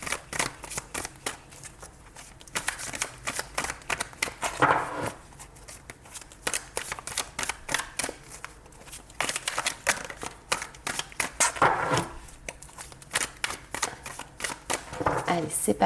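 Tarot cards are shuffled in repeated quick riffling bursts with short pauses between them, under someone speaking French throughout.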